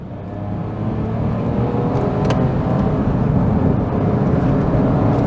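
Small three-cylinder engine of a Smart Fortwo accelerating in third gear while overtaking a bus, a steady loud drone with road noise throughout, no talk.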